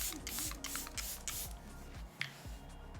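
Short hissing bursts of facial mist from a spray bottle are sprayed onto a makeup sponge, several quick close puffs in sequence.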